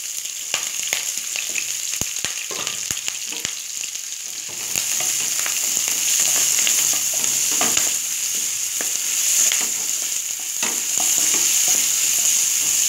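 Onions, curry leaves and green chillies hit hot oil, a crackling sizzle that swells louder partway through and then holds steady, with occasional stirring clicks and no voices.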